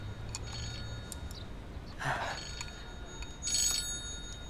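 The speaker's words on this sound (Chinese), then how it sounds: "不好意思，我接个电话。" A telephone rings quietly in an indoor dinner scene, with a few short electronic ring bursts spaced across a few seconds over a low background hum.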